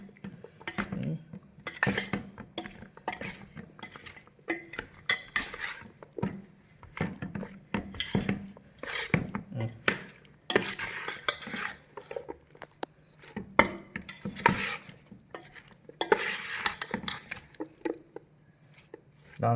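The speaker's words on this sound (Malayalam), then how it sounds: "ഇനി നന്നായിട്ടൊന്ന് ഇളക്കണം. നന്നായിട്ട് ഇളക്കിക്ക്." Bitter gourd pieces coated in masala are tossed and stirred in a metal pot, giving repeated irregular scraping and clattering bursts of spoon against pan, close and fairly loud, with a brief bit of faint talk.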